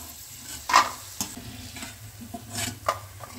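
Corn snacks go into very hot oil on a high flame, giving a bubbling sizzle broken by sharp crackles and spatters, fairly loud and close with no voices.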